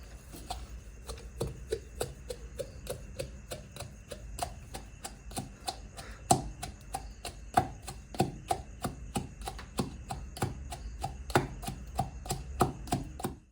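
Whole cumin seeds and salt are crushed together in a steady series of sharp, close knocks, about three or four per second, continuing evenly with no voices.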